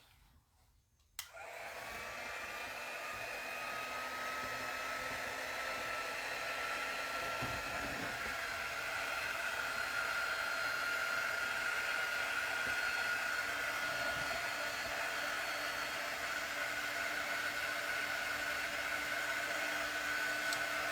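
A hair dryer switches on abruptly and then blows a steady, loud, whining stream of air to dry a coat of chalk paint on autumn cutouts, running continuously with a faint tonal hum.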